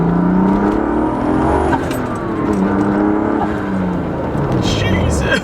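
A turbocharged BMW E36 M3 engine pulls hard under acceleration, a loud, steady drone that climbs in pitch through the clip, with a voice talking over it.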